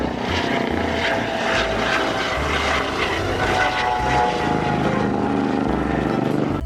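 Toy helicopter whirring steadily with a buzzing rotor drone, close and continuous, alongside other toy vehicles unloaded from a long toy truck.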